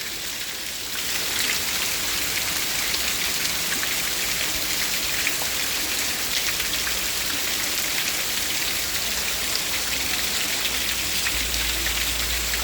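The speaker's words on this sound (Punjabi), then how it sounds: "ਸਾਹਮਣੇ ਬਹੁਤ ਜ਼ੋਰ ਦਾ ਮੀਂਹ" Heavy rain pours down steadily in Rajasthan amid flooding, a dense, loud hiss of drops drumming on surfaces that continues without a break.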